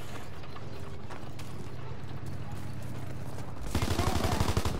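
Gunfire in a war video game, a dense steady rattle of shots through most of the clip that swells into louder, heavier rhythmic bursts near the end.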